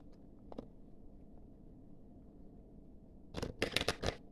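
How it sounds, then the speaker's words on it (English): A quick burst of fairy tale card shuffling, several rapid riffling rustles close by after a mostly quiet stretch with a faint earlier flick. "We're gonna shuffle that again."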